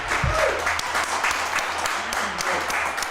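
Audience applause on a podcast-style show, a steady wash of clapping over about three seconds with a brief low thump near the start, no talk.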